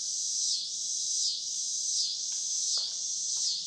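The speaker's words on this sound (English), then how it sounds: "the cicadas outside my window that have been deciding to just" Cicadas outside a window, a loud pulsing high-pitched buzz that swells and fades in regular waves about every three-quarters of a second, with a couple of faint brief chirps underneath and no voices.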